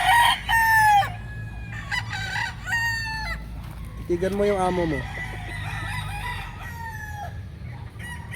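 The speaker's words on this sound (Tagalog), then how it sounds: "Napaka-poging manok." A rooster crows loudly and nearby in a drawn-out call, with clucking and other chicken calls around it and someone talking at moments over the birds.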